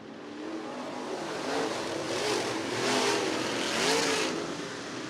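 Late model race cars roar around the Cottage Grove Speedway oval on a restart, a dense, sustained engine wash that swells and recedes in waves as the pack passes, with no voices.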